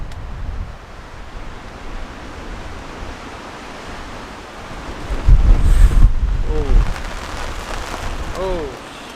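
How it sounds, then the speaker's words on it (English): Strong wind gusts roar across a tent campsite during a heavy rain storm, a steady broadband rush that swells louder midway, with a voice briefly audible over the gusts. "there is some huge wind gusts coming through"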